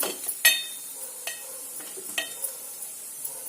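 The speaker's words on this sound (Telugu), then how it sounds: "ఒక్కసారి కలపండి ఎగ్గులు చితికిపోకుండా" A spoon stirs egg masala curry in a pan off the heat, producing soft scraping and a few sharp metallic taps against the pot over a faint background sizzle, close and quiet with no talking.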